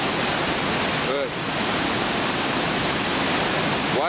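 Water is churned and slapped by hand into turbulence, giving a constant loud rushing splash close by, with a voice briefly breaking in over it.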